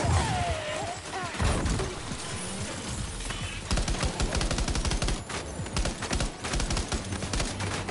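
Gunfire in the video game Death Stranding 2, a loud close fusillade of rapid automatic bursts that grows denser and continuous through the second half, with crashing impacts mixed in.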